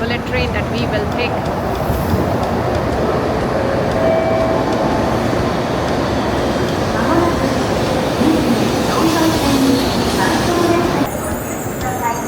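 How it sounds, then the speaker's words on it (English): A Shinkansen bullet train rolls into a platform in Osaka with a steady, heavy rumble and faint squealing brakes, while people talk nearby on the platform. "here comes the bullet train that we will take."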